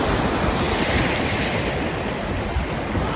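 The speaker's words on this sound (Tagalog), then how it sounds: "Ayan ang lakas ng alon." Strong ocean surf crashing continuously on a cold night beach, a loud, dense roar of waves mixed with wind buffeting the microphone, with no voices.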